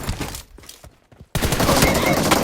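Rapid bursts of video game gunfire, a quiet stretch with a few scattered shots and then a sudden dense, loud barrage of automatic fire. A voice is heard faintly near the start.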